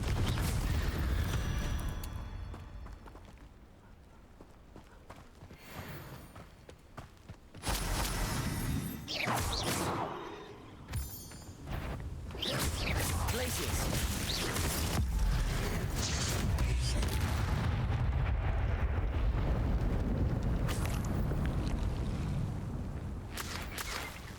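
Blasting spell explosions in the Hogwarts Legacy video game: heavy booms and whooshing bursts recur through a dense, loud stretch of game sound with rumbling low-end impacts.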